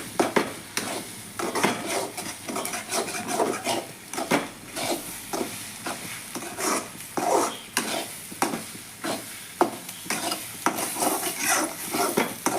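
A spatula stirring egg fry in a hot pan, with rhythmic scraping strokes over a continuous sizzle and occasional metallic clinks, close and moderately loud.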